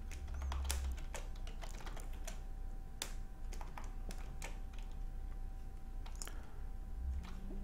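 Code being typed on a computer keyboard, a steady run of crisp, uneven key clicks with occasional louder taps, close by over a low background hum.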